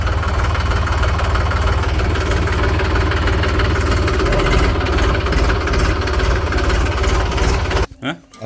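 A tractor engine idles close by with a steady low rumble and rhythmic knocking throughout, then cuts out abruptly near the end.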